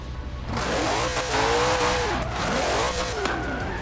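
The engine of a 1964 Ford GT40 Mk 1 in Forza Horizon 4 revs loudly and continuously, its pitch sweeping up and down in repeated arcs with a hint of tyre squeal, heard alone without voices.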